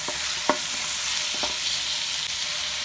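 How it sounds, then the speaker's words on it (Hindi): Chicken pieces seasoned with salt and turmeric fry in a karahi, giving a steady close sizzle broken by a few sharp scrapes and knocks as they are stirred; no one speaks. "नमक, हल्दी, 5 मिनट तक अच्छी तरह से हम भून लेते हैं।"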